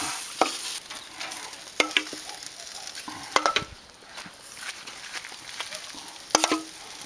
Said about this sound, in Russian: И вот этим маринадом мы теперь еще покрываем вот так вот окорочка.